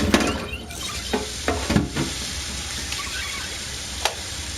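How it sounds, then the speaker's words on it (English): Fried rice with oil, soy sauce and vegetables stirred in a pan, giving a soft steady sizzle broken by several scraping clinks of a utensil against the metal, close and moderately loud with no voices. "So we have our rice fried off with a little bit of oil, a little bit of soy sauce, our vegetables."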